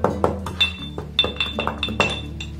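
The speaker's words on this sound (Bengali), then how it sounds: "ছোট একটা হামদিস্তার মাধ্যমে এটাকে এইভাবে একটু গুঁড়ো করলেই হবে" Roasted fennel seeds crushed in a small mortar and pestle: a quick series of sharp clinks and knocks, about a dozen strikes in irregular rhythm, close and clear with no talk.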